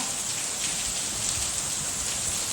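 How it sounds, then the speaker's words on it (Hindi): Steady rain pouring on a seaside town in Puri, a dense, even hiss of many drops striking surfaces nearby, continuous and fairly loud throughout with no voices. "मैं नीचे उतरी और बारिश होने लगी।"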